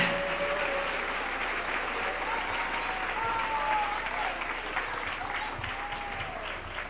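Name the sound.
church congregation applauding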